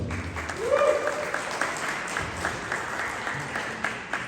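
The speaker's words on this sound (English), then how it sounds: "Please get a round of applause to her" Audience applause for board president Vanessa L. Gibson at a violence prevention event, continuous clapping from a crowd that holds steady for several seconds, with a voice heard briefly near the start.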